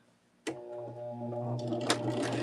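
Sewing machine stitching rows of a Shooting Stars quilt block together, a steady close mechanical whir with a faint hum underneath that starts abruptly and runs continuously.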